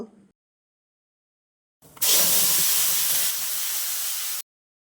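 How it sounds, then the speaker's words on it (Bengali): Blended spice paste hits hot oil with bay leaf and five-spice seeds in a pan used for frying bata fish, bursting into a loud, sustained sizzling hiss that cuts off abruptly after a few seconds. "তারপর একই তেলে তেজপাতা পাঁচফোড়ন দিয়ে সামান্য একটু ভেজে নিব ব্লেন্ড করা মশলাটা দিয়ে দিব"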